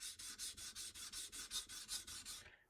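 A blade bevel rubbed back and forth on a 400 grit sharpening stone, a steady series of about a dozen rhythmic gritty rasping strokes, close and quiet, with no talking.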